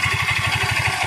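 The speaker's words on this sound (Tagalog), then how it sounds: "hindi nawala yung kanyang tunog na nagmumula dito sa loob ng kanyang makina" A Yamaha Mio i 125 scooter engine with a suspected connecting rod or side bearing fault runs at a steady idle, a loud, close, rapid rhythmic thumping beneath a rough mechanical clatter, with no voices.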